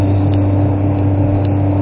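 A car engine drones steadily and loudly while driving a mountain stretch of Japan's National Route 252 between Fukushima and Niigata, a continuous low rumble with no talking.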